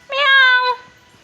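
A domestic cat lets out a single clear, drawn-out meow lasting about half a second, loud and close, followed by quiet.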